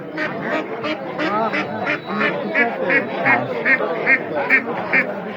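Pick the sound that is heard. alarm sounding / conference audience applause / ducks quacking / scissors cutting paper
ducks quacking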